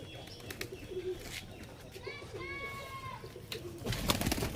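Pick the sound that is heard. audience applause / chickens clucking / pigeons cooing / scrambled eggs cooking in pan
pigeons cooing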